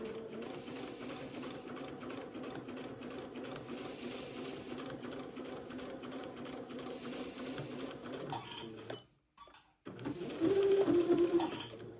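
A sewing machine stitches a seam in a long, steady mechanical whir, then pauses briefly and starts again louder for a short run of backstitches.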